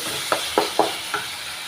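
Onions and tomatoes sautéing with salt in a pan, a steady sizzle with four quick scraping strokes of a spoon, close and alone.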